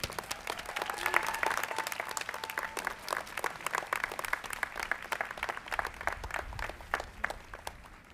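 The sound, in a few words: audience applause at degree ceremony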